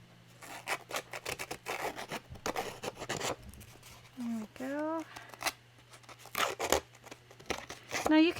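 A distressing tool scrapes and rasps along paper edges in quick repeated strokes, close and crisp, with a few short vocal sounds in between.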